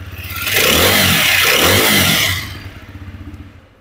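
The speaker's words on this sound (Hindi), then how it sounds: "इसका एग्जॉस्ट जो है वो काफी लाउड साउंड आपको प्रोवाइड करता है" A TVS Apache RTR 160 4V motorcycle, black edition, gives a loud, close rev with two quick throttle swells before settling back to a steady idle thrum, with no voices.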